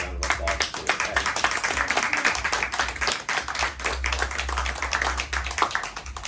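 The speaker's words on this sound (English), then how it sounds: "give y'all a round of applause for it" A live audience at a Louisiana spoken-word homecoming show claps in a dense, fast patter of many hands, fairly close, with no voices over it.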